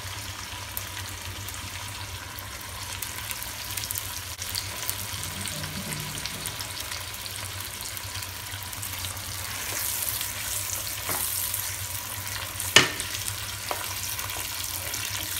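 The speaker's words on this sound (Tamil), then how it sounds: "இப்போ நம்ம இந்த நேரத்தில் வந்து இந்த சில்லி பேஸ்ட் இதில் போட்டுப்போம்" Chilli paste sautés in oil in a pan for a tofu sambal, giving a continuous soft sizzle that stays even throughout, with a sharp clink near the end and no talk.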